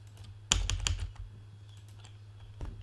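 Typing on a computer keyboard during WordPress editing, a quick cluster of close key clicks, then a few scattered taps, with no voices.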